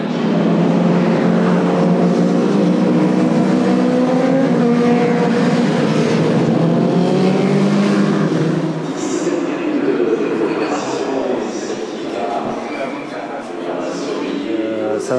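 Race cars at the 2025 24 Hours of Le Mans start up again after a safety-car period, a loud, steady engine drone that continues close by and eases slightly in the second half.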